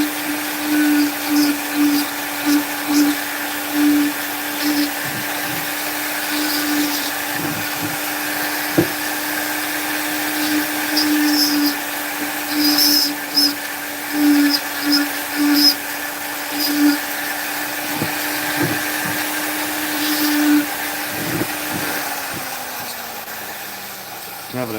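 A rotary carving tool fitted with a burr grinds wood in a long, steady high-pitched whine, with repeated short bursts of louder grinding as the burr bites in, and a voice talking at times underneath.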